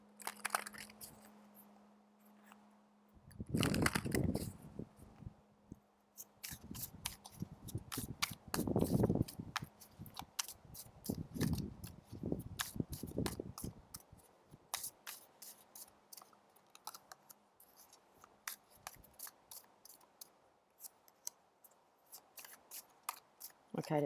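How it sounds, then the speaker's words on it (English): Repeated crisp tarot card shuffling in close, rapid bursts, with quieter handling clicks between and some talking at times. "let's give these a shuffle"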